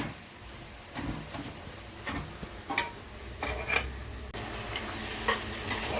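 Onions and chukka kura greens frying in a pan, a continuous close sizzle broken by repeated utensil scrapes and stirring knocks at an irregular pace; no voices.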